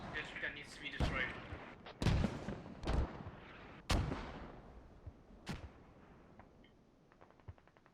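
Mortar fire in the tactical shooter game Squad: several heavy booming impacts and sharp blasts spaced irregularly, with echoing tails, under radio chatter and team voice comms.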